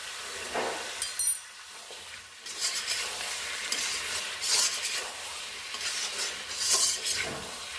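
Chicken with spinach fries in a pan while being stirred, uneven bursts of sizzling hiss mixed with scraping and light clinks of a utensil against the pan, close and moderately loud.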